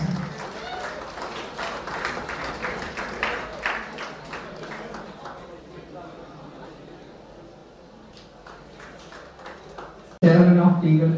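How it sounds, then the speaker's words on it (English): Audience applause at a felicitation ceremony held by an educational society with T-Hub staff, a dense clapping crowd that fades over several seconds before a voice takes over on the microphone. "Give her a big round of applause"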